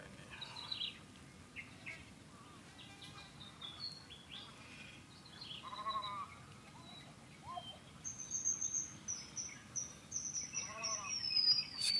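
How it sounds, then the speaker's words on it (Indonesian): Many birds sing in a forest outdoors, with faint, scattered chirps and tweets coming from a distance and a thin, high, insect-like trill rising toward the end in a quiet setting. "Banyak burung."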